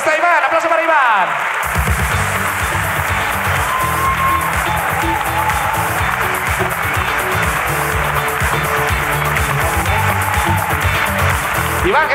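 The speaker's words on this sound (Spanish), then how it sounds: "aplauso para Iván" Audience applause for a guest on the Spanish podcast La Ruina, a dense, sustained wash of clapping from a live crowd that starts abruptly and continues steadily, with a voice speaking over it.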